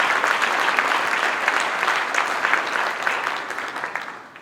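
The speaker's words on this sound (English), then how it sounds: "How about a round of applause for the work they've done?" An audience at a conservative political conference applauds, giving a dense, loud burst of clapping that thins and fades over a few seconds, with no voices heard.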